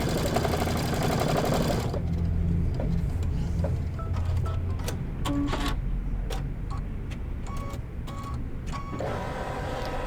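A sewing machine runs steadily while quilting a Candy Lane quilt, a loud continuous mechanical whir with rapid needle ticking that thins out partway through, with no talking.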